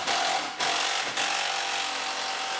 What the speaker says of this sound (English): So we'll put the screws in there to hold it in.